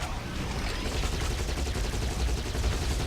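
Rapid barrage of loud, continuous gunfire-like blasts from a rocket launcher in a video game, dense and sustained without pause, with no talk over it.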